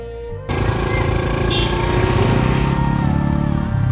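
A motorcycle engine idles steadily and loudly nearby on a rough mountain pilgrimage road, with the silencer scraping the ground; after a short quiet start, a continuous throbbing rumble carries through to the end.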